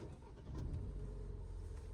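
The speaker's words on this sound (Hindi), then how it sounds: "अब इंजन स्टार्ट करो" A car engine restarts after stalling in a narrow lane with the air conditioning switched off. A low, close rumble swells at about half a second and then settles into a steady idle.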